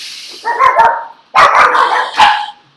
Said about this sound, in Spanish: ya me están aquí fregando los perros